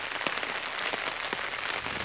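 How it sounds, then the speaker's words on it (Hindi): Heavy rain pours steadily onto surfaces during the rainy season in Assam, a dense, even hiss with occasional louder drops, continuous throughout. "असम में इतना ऐसा बारिश आ रहा है"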